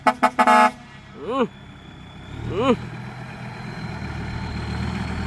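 A car horn blares in several quick loud honks, followed by a couple of wavering tones and then a steady engine idle.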